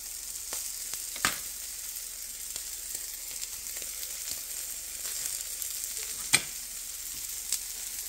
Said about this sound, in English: We're gonna heat up our focaccia bread so it's gonna be soft again.